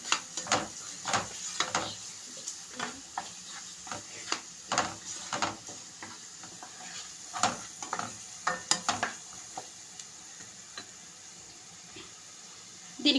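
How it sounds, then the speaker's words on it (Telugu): Chili, turmeric, cumin and coriander powders stirred into a garlic masala for Rayalaseema egg garlic karam, with soft irregular scraping strokes of a spoon over a faint background sizzle at moderate distance. "ఇందులోకి కొంచెం జీరా పౌడర్, కొంచెం ధనియా పౌడర్ వేసుకొని మొత్తం ఒకసారి మిక్స్ చేసుకుందామండి"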